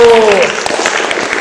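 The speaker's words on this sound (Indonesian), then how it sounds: "Tepuk tangan untuk kelompok biru" Students in a classroom clap for the blue group in a short burst of scattered applause that follows a brief voice and fades quickly.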